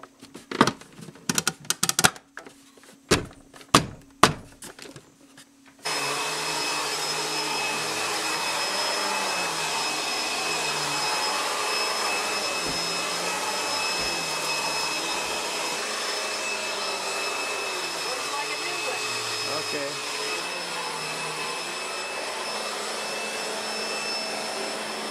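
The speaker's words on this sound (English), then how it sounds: "The vacuum works good as a new one now." After a few seconds of sharp clicks and knocks, a household vacuum cleaner fitted with a new bag starts and runs with a steady, loud drone and a high whine, continuing unbroken to the end with no talk.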